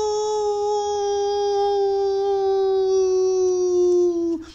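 A dog lets out one long, steady howl at close range and loud, holding its pitch before a brief drop at the end, with no barking heard.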